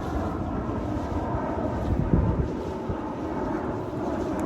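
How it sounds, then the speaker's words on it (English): Airplanes fly overhead near Steel Creek in Charlotte, North Carolina, making a steady, broad rumble throughout with a slight swell midway. No one speaks. "hence the airplanes. I have become quite accustomed to the sound."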